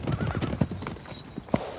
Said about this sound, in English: Have pity on that horse!